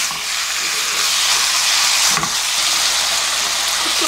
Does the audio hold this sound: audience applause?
no